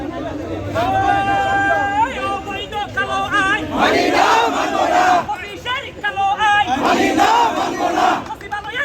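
Bangladesh secretariat employees at a protest demanding a secretary's arrest chant slogans together, loud and close, in rhythmic call-and-response bursts over crowd noise.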